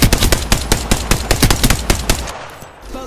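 Rapid gunfire from the Apex Legends video game, a fast burst of about a dozen sharp, evenly spaced shots over a couple of seconds that then trails off into quieter background noise.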